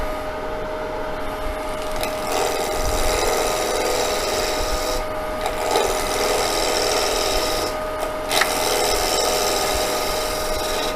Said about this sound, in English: you see I'm not using the whole width of the skew chisel